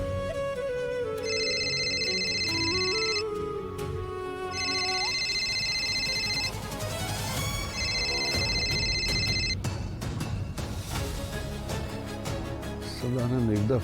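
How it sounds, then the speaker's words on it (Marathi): A telephone rings unanswered in a Marathi TV drama scene, its electronic ring repeating in three evenly spaced bursts of a few seconds each over steady background music. "सदानंद एकदा फोन उचल"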